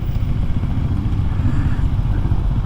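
Kawasaki KLX 300SM single-cylinder motorcycle engine idling or running steadily close by, a continuous low rumbling throb with no talk over it.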